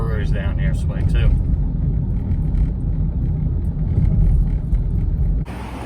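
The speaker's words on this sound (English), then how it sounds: "There's a big old truck next to me." Heavy low rumble of a big truck running alongside on a New Orleans street, steady and close throughout, with a person talking over it and the noise dropping off near the end.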